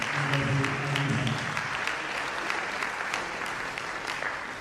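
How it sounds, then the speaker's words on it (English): An audience at a university inaugural lecture applauds the guest lecturer with steady, dense clapping that fades slowly. A voice speaks briefly at the start. "let us give a round of applause to the guest lecturer, Professor Inaugural."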